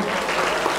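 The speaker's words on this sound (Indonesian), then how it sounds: "Tepuk tangan." Applause from a public speaking class audience, a short steady patter of clapping filling the room at moderate loudness with no talk over it.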